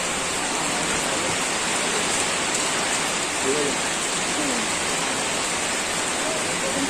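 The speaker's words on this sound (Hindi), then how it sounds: "अभी बहुत तेज बारिश आ गई है" Dense, steady downpour in Goa hissing on surfaces, a heavy rain roaring evenly throughout with no pauses.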